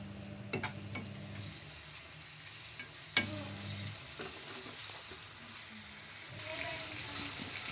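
Prawns frying with softened onions and ginger garlic paste for an Andhra-style brinjal prawn curry, giving a soft continuous sizzle with a few spoon knocks and stirring sounds, close and quiet.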